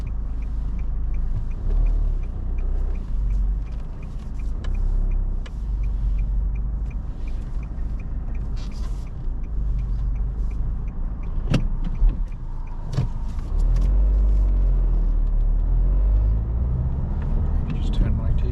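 A car pulling away during a mock driving test, with a steady low engine rumble and road noise inside the cabin, a few clicks and thumps, and people talking over it.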